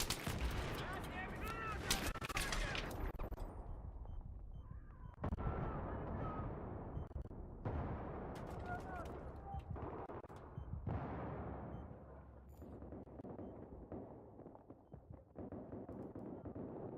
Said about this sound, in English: There is a machine gunner operating.